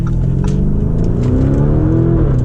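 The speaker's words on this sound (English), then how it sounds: "let's see if we can do a little acceleration here" A Lamborghini Urus SUV with a 640-horsepower engine accelerates hard on the road, heard from inside the cabin as a loud, continuous engine roar climbing steadily in pitch, no talking.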